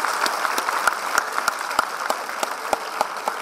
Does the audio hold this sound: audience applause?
yes